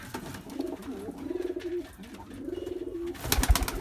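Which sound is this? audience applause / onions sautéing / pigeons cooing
pigeons cooing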